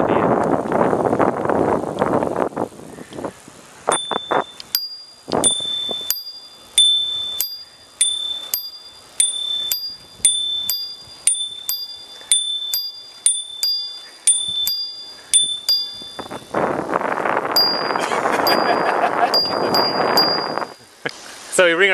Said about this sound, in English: So we ring our bell, alternating, every milepost.